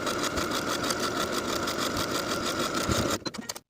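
A sewing machine runs fast and close in one steady burst, its needle chattering rhythmically as it edge stitches the folded hem of a shirt sleeve, then stops abruptly.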